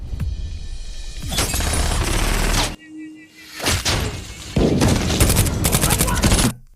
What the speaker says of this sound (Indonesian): Ada sebuah tembakan sniper dari arah yang belum diketahui.